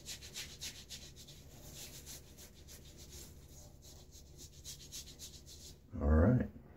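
Pre-shave soap scraped from around a tin is rubbed onto skin, giving a soft, steady brushing friction close by for several seconds, ending in a brief louder thump.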